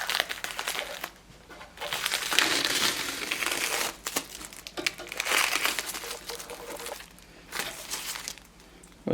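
Tissue paper wrapped around a 1:18 GT Spirit Koenigsegg Jesko Absolut model car is crumpled and crinkled close up, in continuous rustling bursts with short pauses and no talking.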